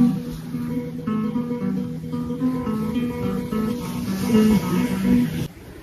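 Classical guitar playing Albéniz's Asturias, a steady run of rapid repeated picked notes with clear sustained tones, alone and close throughout.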